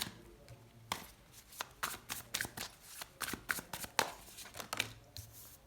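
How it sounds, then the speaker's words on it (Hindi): Tarot cards being shuffled and drawn up close, a run of crisp riffling bursts and soft slaps in an uneven rhythm, with faint handling rustles between them and no talking. "अब हम निकालते हैं आपके लिए कुछ टैरो कार्ड्स यहाँ पे"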